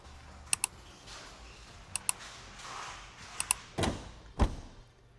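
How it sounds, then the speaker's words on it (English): Plastic clips snapping into the front grille of a BMW X5 G05, three sharp pairs of crisp clicks spaced evenly apart, followed by two duller thuds as the panel is pressed home. "Just go around the grill, make sure that everything is clipped in. You'll hear them go."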